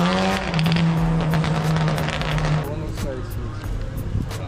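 A Honda roars past at a Columbus cars and coffee meet, its engine note loud and close, then falling in pitch as it moves away, with tires squealing and a voice over the top.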